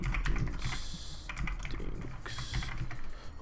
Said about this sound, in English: Hopefully I'm actually typing this in right.